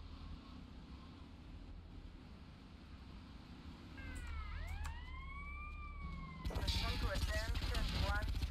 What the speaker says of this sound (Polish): A tu jeszcze policja jedzie.